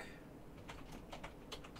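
Faint typing on a computer keyboard, a scatter of light key clicks in quick uneven bursts, quiet and close with no talking.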